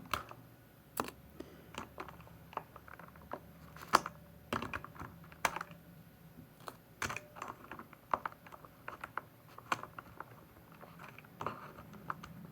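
Keycaps pried off a keyboard by hand, without a removal tool, make sharp scattered clicks and pops over a quiet background, some spaced apart and some in quick clusters, close and crisp.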